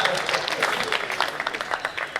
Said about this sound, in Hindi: हंसी निकले तो ताली भी होनी चाहिए दोस्तों।